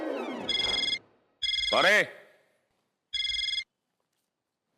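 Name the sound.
mobile phone ringing in a police station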